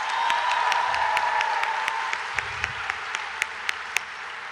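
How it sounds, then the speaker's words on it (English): An audience at a university orientation event applauds steadily, a dense wash of clapping that holds for a few seconds before thinning into scattered individual claps at the end. "Let's give them another round of applause."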